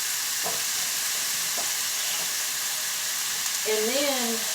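Ground hamburger scrambled with onions and garlic in a pan, a steady broad frying hiss with light stirring scrapes, a few faint knocks and a brief voice near the end.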